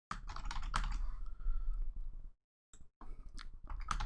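Rapid keystrokes on a somewhat unresponsive computer keyboard clatter in quick bursts, pausing briefly before another flurry of taps, close and without speech.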